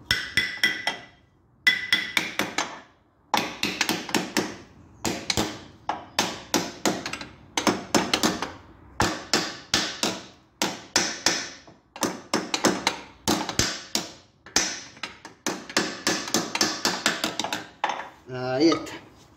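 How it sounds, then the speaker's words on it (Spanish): A small hammer tapping a new oil seal into the gear housing of a Volpino diesel rotary tiller, with repeated sharp metallic taps in quick bursts separated by short pauses. "Y le damos con el martillito hasta que entre."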